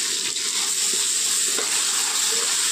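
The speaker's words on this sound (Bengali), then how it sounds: "আদা রসুন বাটাটা দিয়ে ভালো করে কষিয়ে নেব" Ginger-garlic paste and tomatoes sizzle steadily in a pan while being fried for egg biryani, a constant close hiss with faint stirring scrapes and no talk.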